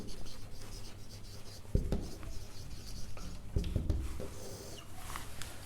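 Hand writing out a construction step in a maths lesson on congruent circles, soft scratching pen strokes with a few louder taps, close and quiet, under light talk.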